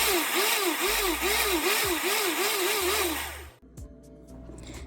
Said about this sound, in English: go ahead and blend it for a little bit more